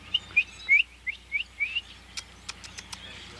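A bird in Arkansas whistling a quick series of sharp, rising chirps, then a few thin high ticks, faint and somewhat distant over a quiet background hum.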